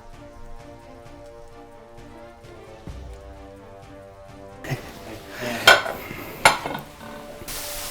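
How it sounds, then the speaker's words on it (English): Chicken sears in a pan with a rising sizzle, punctuated by a few sharp clanks of a utensil against the pan. Faint sustained musical tones play underneath. "I started to cook the chicken. I placed it in the pan evenly so it would cook all the way through"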